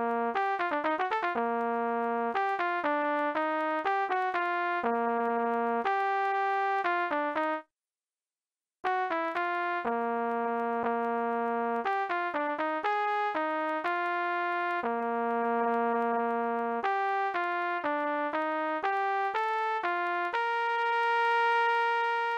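Velato program rendered as a melody of synthesized musical notes, a steady run of pitched tones with changing rhythm and a brief silent gap partway through.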